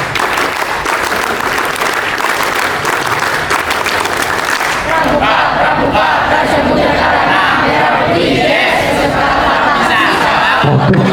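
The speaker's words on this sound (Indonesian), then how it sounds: "2 kali tepuk pramuka" Scouts at a school inauguration ceremony do the rhythmic Pramuka clap in unison, loud group clapping with shouts and cheers from the crowd that continue throughout.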